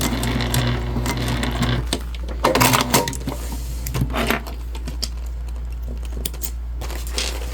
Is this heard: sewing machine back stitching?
yes